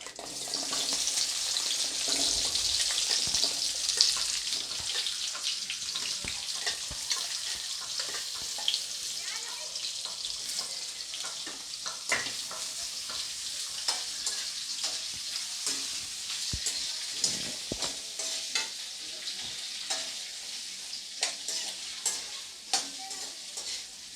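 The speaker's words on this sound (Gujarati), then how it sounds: "હવે આપણે નાખી દઈશું આ તેલમાં કાંદા." Onions frying in hot oil, an initial burst of loud sizzling that settles into a softer steady crackle, broken by scraping stirs, with no speech.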